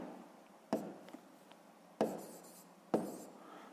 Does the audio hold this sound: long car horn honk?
no